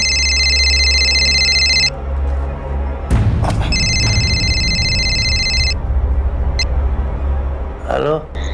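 A telephone ringing with two long electronic ring bursts separated by a pause, loud and near, with thumps and a voice in between.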